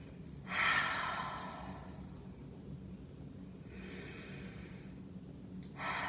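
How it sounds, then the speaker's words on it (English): Several slow, deep breaths drawn in and let out during a seated exercise routine, each a loud airy rush up close, separated by quiet pauses. "take 3 big breaths"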